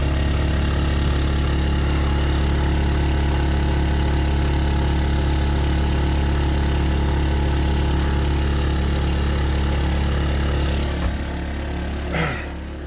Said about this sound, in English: this pump, this compressor is just laying in there